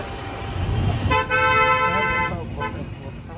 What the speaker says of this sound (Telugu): సింహాచలం దగ్గర చాలా ఫుల్ ట్రాఫిక్, మొత్తం రష్ అయిపోయింది